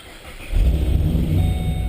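Engine of a Whipple supercharged Holden VE Maloo ute with a Turbo 400 transmission catches and starts about halfway through, rising into a loud, steady low rumble that carries close up to the end.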